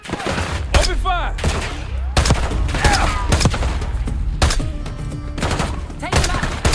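Rapid bursts of automatic gunfire and sharp shots crackle through a Call of Duty: Black Ops 6 single-player campaign firefight, loud and near, with shouted voices mixed in.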